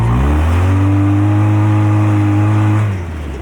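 An off-road vehicle revs hard while spinning its tires in mud, a loud, sustained engine drone holding steady pitch for nearly three seconds before easing off, close by and with no talking.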